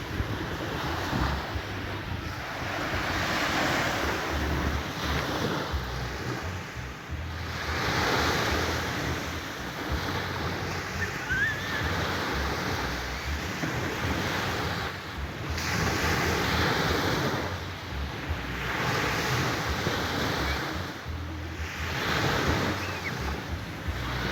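Sea waves breaking continuously on the Vistula Spit beach with steady wind buffeting the microphone, surf swelling and receding in slow surges over about twenty-four seconds, with no talk.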